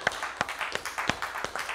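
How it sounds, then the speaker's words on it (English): Church congregation clapping hands together in a slow, regular rhythm of distinct sharp claps, close and moderately loud over a soft background hum, with no one speaking. "Give him another hand clap this morning."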